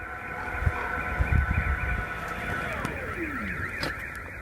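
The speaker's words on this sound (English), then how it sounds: "Sorry about the noise, but we also have the electric tailgate." Warning beeps from the electric tailgate of a 2024 Toyota Land Cruiser 2.8 D-4D as it operates, a steady high electronic tone sounding close by over a low motor whir and faint rustling.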